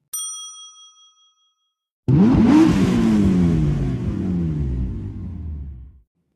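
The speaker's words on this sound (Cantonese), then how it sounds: "車門慢慢關上，巴士繼續行駛。" A bus chime dings and fades, then after a short silence the bus engine starts up and accelerates away with a rising, rumbling drone that holds steady and then cuts off.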